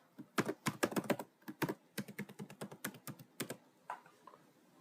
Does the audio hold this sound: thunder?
no